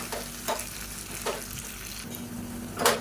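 Shallots sizzle steadily in a pan while being stirred for an idli and dosa side-dish curry, with a few louder bursts of stirring scrapes over a constant frying hiss.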